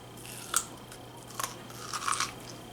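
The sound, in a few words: biting into elote-style corn on the cob with cheese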